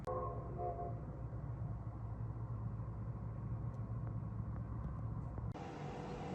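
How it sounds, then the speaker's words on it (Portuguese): The historic Maria Fumaça steam train rumbles past steadily at a distance, a low continuous rolling drone with a faint tonal whistle early, ending in an abrupt shift of background noise. "Olha a Maria Fumaça chegando ali novamente"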